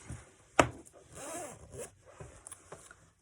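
A metal zipper on a sewn tote bag is handled near the mic, with one sharp zip followed by soft rubbing, scraping and fabric handling, and no talking.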